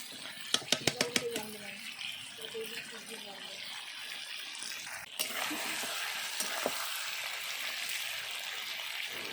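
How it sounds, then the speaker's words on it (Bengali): Duck meat frying in a pot over a wood-fired clay stove, with a burst of sharp scraping knocks early on followed by steady sizzling and stirring that continues at moderate level. "এইভাবে মাংসটা বারে বারে নাড়াচাড়া দিয়ে কষিয়ে নিতে হবে"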